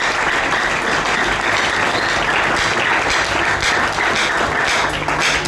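Church congregation applauding at a Sunday service marking a church's first anniversary, a dense, steady wash of many hands clapping close by, continuous and loud throughout.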